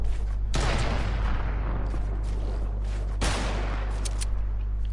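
Guns fire in a video game battle, dense and loud, with two heavy booming blasts standing out over a continuous rattle of shots and a low steady hum, no voices.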